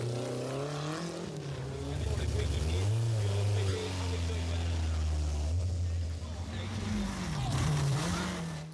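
A Lancia rally car engine with turbo boost at the 1988 Tour de Corse, revving loudly and rising and falling in pitch as it accelerates past, close and dominant throughout.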